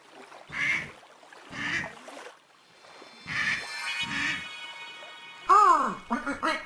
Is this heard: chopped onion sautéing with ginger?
no